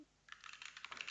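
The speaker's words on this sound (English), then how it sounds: "So if I just do some typing first here." Quick, quiet clatter of keys being typed on a computer keyboard, a brief burst of taps following a moment of near silence, close and soft.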